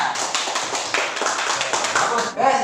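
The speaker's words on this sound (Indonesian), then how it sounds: "Kita tepuk tangan semuanya." A classroom group claps steadily in dense, continuous applause for a couple of seconds, then it tapers off as a voice begins.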